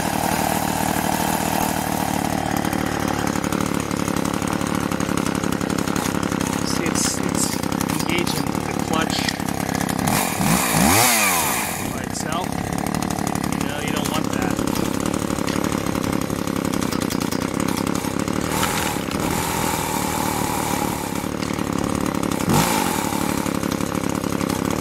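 An Echo CS-400 chainsaw engine runs at a steady idle throughout, close and continuous, with a brief louder rise near the middle and occasional background noise.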